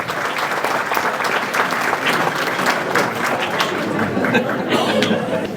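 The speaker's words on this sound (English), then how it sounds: "a round of applause please for our feature winners" A speedway banquet crowd applauds the season's mini stock feature winners, steady full-room clapping throughout with chatter and a little laughter underneath.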